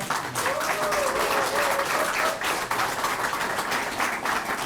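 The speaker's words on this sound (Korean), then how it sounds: "여러분 응원의 박수 한번 부탁드립니다" An audience applauds at a Yongin mayoral candidate's press conference, a loud, continuous burst of clapping that carries steadily throughout with a faint voice briefly underneath.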